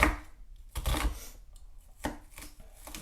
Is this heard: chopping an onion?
yes